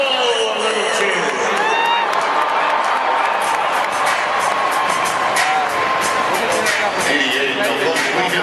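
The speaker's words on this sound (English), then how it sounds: "Give a guy from Huntsville a little cheer." A rodeo crowd in a Houston arena cheers and whoops for a bull rider, a loud, steady roar of many voices with scattered shouts and whistles, with an announcer's voice heard over it.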